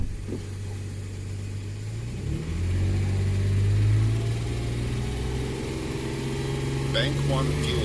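A 2008 Toyota FJ Cruiser with a P0101 airflow fault revs up from idle, its engine drone climbing in pitch and then holding steady, close and fairly loud.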